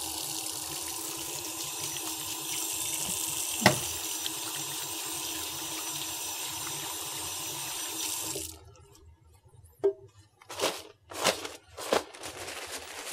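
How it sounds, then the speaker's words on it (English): Tap water runs steadily at a sink for about eight seconds as hands are washed before a medical examination, then stops, followed by a few brief splashes and soft handling sounds. "Before we begin the examination, I'm just going to wash my hands"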